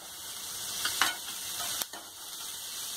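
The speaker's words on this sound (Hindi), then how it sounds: "एक मिनट प्याज भूनने के बाद अब हम इसमें डालेंगे कैप्सिकम।" Sliced onion and capsicum sizzle in a pan under a steady hiss, with a couple of brief scrapes and clinks from stirring.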